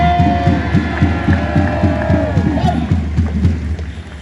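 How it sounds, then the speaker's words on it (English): Protest march crowd cheering and clapping in a steady, rhythmic pulse, loud and close, with shouting voices mixed throughout. "You don't got to clap all the time, you mob"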